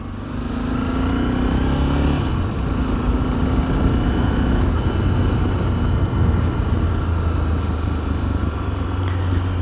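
A Honda XRE 300 single-cylinder motorcycle engine drones steadily while riding, a loud continuous thrum with wind rush and no pauses throughout.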